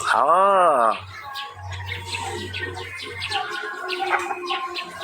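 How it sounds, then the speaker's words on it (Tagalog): Sparrows chirp and twitter in quick, busy bursts throughout, with a strong voice-like warble at the start and a low hum underneath. "Ganda naman ng tunog ng mga ibon dyan, Becky."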